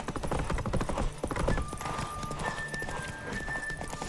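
Horse hooves galloping in The Witcher 3 game, a rapid rhythmic clip-clop close up, with a whinny and tonal game sounds layered over it.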